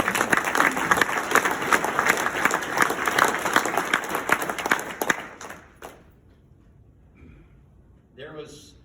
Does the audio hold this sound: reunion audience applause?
yes